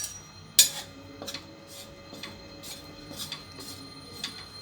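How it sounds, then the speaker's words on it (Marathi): Gram flour (besan) roasts in a pan while a spoon stirs it, giving soft, regular scraping strokes against the metal with a sharper clink near the start, all fairly quiet and close. "आता आपण बेसन भाजूया।"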